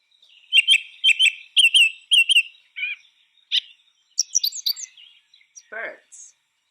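Bright, high chirping bird song in quick repeated phrases, followed by a few varied tweets and a lower descending call, clear and alone.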